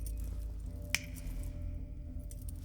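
A single crisp finger snap rings out once over a low, steady background hum in a dramatic scene from the film Bogan.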